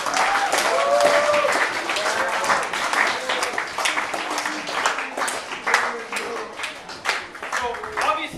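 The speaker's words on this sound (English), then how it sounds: "let's give Rachelle a very good round of applause for coming in." Audience members at a school question-and-answer session clap for a visiting guest, a moderately loud, uneven patter of individual claps mixed with scattered voices and chatter running underneath throughout.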